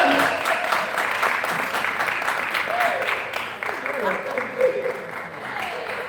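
A panel-discussion audience applauds a speaker coming to the stage, steady clapping close and fairly loud, with a few voices calling out over it.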